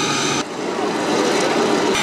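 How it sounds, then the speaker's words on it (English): An old Navy carrier fighter aircraft's engine runs at the 2012 Manassas Air Show, a loud, steady, broadband roar that holds with a brief dip before swelling slightly. No voices are heard. "This old fighter aircraft's been fired up."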